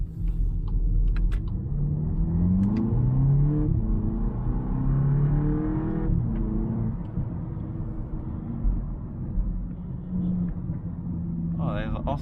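A VW Polo GTI engine drones steadily while driving, heard from inside with low rumble and some shifting revs, under a speaking voice, with a faint tick near the end.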